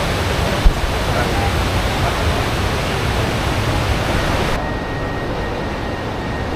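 Water pours over a weir on the River Avon in Bath as a steady, loud broadband rush that holds constant and drops slightly in level near the end.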